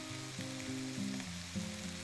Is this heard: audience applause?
no